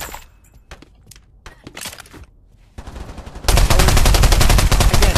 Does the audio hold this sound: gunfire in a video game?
yes